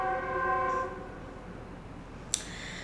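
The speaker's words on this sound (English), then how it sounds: "I live above a train." A train running beneath an apartment building, heard as a steady rumbling roar with a sustained horn-like tone at the start that fades out, then a single sharp clank.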